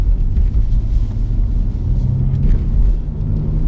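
A BMW M240i drives in Sports Plus mode, its engine and road noise a steady, loud low rumble from inside the cabin, with wind buffeting and no pauses.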